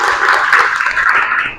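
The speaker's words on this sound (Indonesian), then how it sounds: "Oke, tepuk tangan buat teman kalian ya." Students in a classroom clap for their classmates, a short burst of dense, close applause that stays loud and even throughout.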